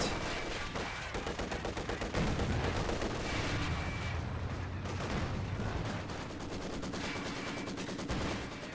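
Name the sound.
gunfire suppressing Grenadiers in Company of Heroes 2 video game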